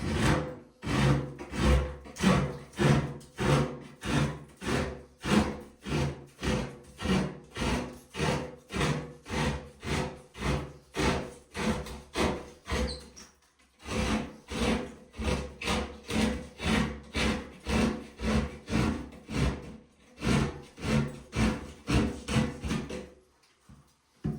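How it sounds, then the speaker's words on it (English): A hand saw cuts through sheetrock in steady upstrokes, a close, loud rasping rhythm of about two strokes per second with one short pause partway through. "I'm going to use an upstroke so that way I'm not tearing the sheetrock on the downstroke"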